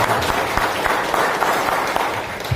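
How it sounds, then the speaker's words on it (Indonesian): An audience claps for event organizers, a steady dense wash of applause from a crowd that holds at an even level for a couple of seconds, with no one speaking over it. "Ya, tepuk tangan buat panitianya."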